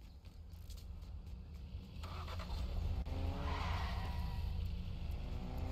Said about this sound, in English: Our guys just took off in a car.